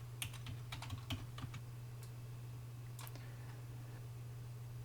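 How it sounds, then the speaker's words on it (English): Quiet keystrokes on a computer keyboard as a password is typed: a quick cluster of clicks followed by a few sparse taps, over a steady low electrical hum. "Type your password."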